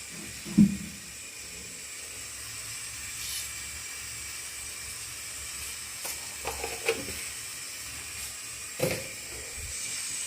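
Oil heating in a kadhai that was just used to fry peanuts, giving a faint steady hiss with a few soft clicks and bumps, quiet and without talk.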